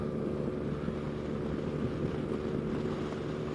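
A 2020 Yamaha Tracer 900 with its Cross Plane Triple engine is ridden, a steady low engine drone under heavy wind rush, continuous and even throughout with no talk.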